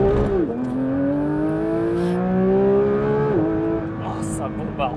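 A Porsche GT3 accelerating hard, heard from inside the car: a loud, rising engine wail that dips briefly at two gear changes, with people talking over the engine.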